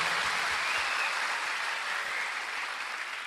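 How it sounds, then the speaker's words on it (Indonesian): A church congregation claps together in a steady, dense wash of applause that holds for a few seconds and eases slightly toward the end, heard from some distance with no voices over it. "Tepuk tangan yang meriah begitu."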